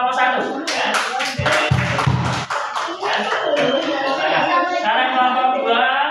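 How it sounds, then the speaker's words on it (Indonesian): Brief clapping from participants in a teacher training workshop for the first group, with voices talking over and around it and the claps sharp and close. "tepuk tangan untuk kelompok 1 ya"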